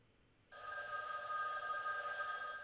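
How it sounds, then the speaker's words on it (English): A telephone rings in the video game Witch on the Holy Night, a sudden loud, sustained electronic bell tone cutting in after a short quiet pause and holding steady. "The phone rang."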